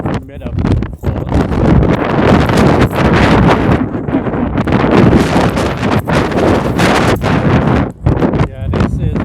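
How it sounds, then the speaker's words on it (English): Strong gusts buffet the microphone in heavy, roaring bursts in Chania old town, Greece, nearly continuous with a few short lulls, while a voice talks faintly underneath. "Today is windy"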